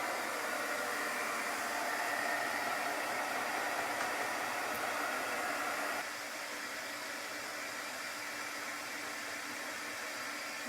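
A heat tool blowing steadily while drying chalk paint on a wooden sled craft, a constant airy whoosh that drops slightly in level partway through and continues unbroken to the end, alone without talk.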